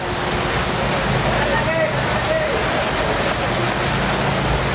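Steady rain falls continuously, a dense broadband hiss close by with no breaks; faint voices sit under the downpour.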